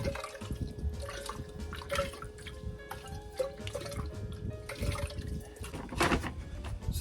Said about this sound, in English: Now rinse the resin vessel out after you've emptied it with the dirty resin.